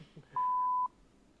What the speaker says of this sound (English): that beeping sound effect with my face